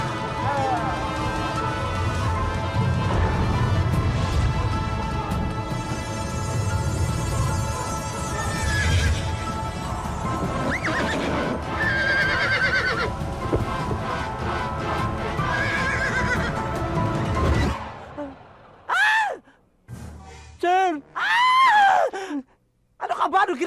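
A person imitates a horse's neigh in a Filipino comedy film, first under a loud music-and-noise bed, then in several clear, wavering whinny-like cries with gaps of silence near the end.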